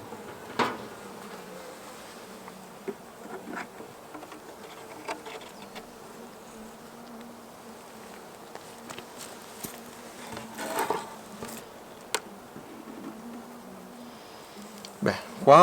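Honey bees buzz faintly inside a hive opened on the first inspection after winter, a soft continuous hum broken by occasional clicks and knocks from handling the frames.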